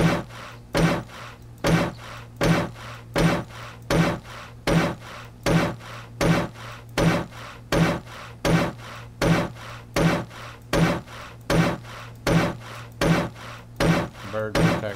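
A wooden hammer repeatedly strikes blocks being upgraded to cobblestone in the survival game 7 Days to Die, a steady rhythm of about two raspy, scraping thuds per second, loud and close, continuing without pause.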